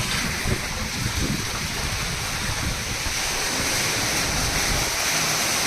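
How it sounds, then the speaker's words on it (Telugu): Rainwater gushing at full volume into an underground sump, a loud, steady, roaring splash that stays close and unbroken throughout with no voices. "ఫుల్ ఫ్లెడ్జ్ వాటర్ వస్తూ ఉంది."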